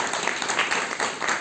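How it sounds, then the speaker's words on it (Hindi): Applause from an audience welcoming a new team at a motivational business gathering, a dense wash of many hands clapping steadily through the whole moment, moderately loud with slight surges. "नई टीम के लिए एक बार शानदार ताली होना चाहिए"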